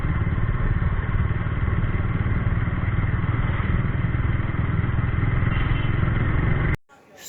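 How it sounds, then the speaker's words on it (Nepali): A motorcycle on a road making a U-turn and riding away, a steady mid-pitched engine drone heard clearly for several seconds before cutting off abruptly near the end. "त्यो बाइक चाहिँ यु टर्न मारेर भाग्दैछ"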